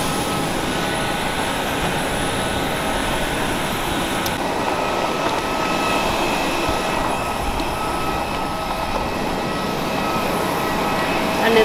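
A budget airline passenger jet landing on a flight to Thailand, heard from inside the cabin as a steady, loud roar of engine and airflow noise that holds without letup throughout.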